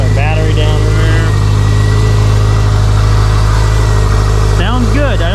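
A Subaru STI sits idling with a loud, steady low rumble, while a voice briefly talks over it near the end.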